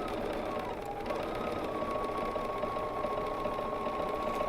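A BERNINA sewing machine stitching free-motion quilting along a ruler: a steady, fairly quiet mechanical whirr with a faint high whine whose pitch dips briefly, then holds even.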